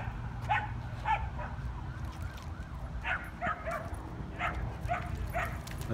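Dogs of a rare breed kept as pets bark in short repeated bursts mixed with high whimpers and howl-like cries, fairly close over a low background hum.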